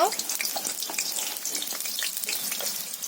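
Chopped onions fry in oil in a pot during a beef curry, a soft close crackle and sizzle with light spatter pops over a few seconds, no talk.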